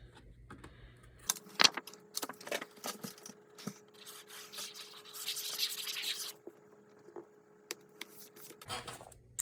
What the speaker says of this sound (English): I do want to round the corners